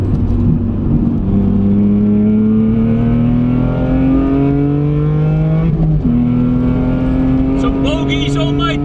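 Several cars approach on the Nürburgring, engines whining loud and steady, pitch climbing as they close in, with a sharp gear change and rising revs near the end.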